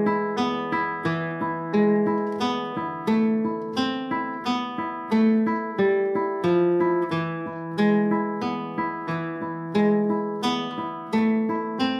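Flamenco guitar picks out a brisk repeating Malagueña melody in a higher octave over a pulsing thumbed bass line, bright plucked notes at a steady rhythm, no voices.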